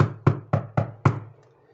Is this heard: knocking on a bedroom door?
yes